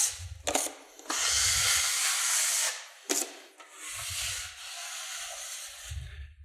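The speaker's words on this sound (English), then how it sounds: "we'd put that mud on there, feather it back off." Drywall mud being spread and feathered with a knife over a recessed joint, several long rough scraping strokes separated by short pauses, close and fairly loud with no talking.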